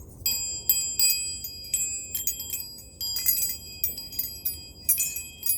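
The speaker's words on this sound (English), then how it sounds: "I love wind chimes." Clusters of high, ringing metal chimes tinkling irregularly, with overlapping tones that linger and fade, close by and fairly bright.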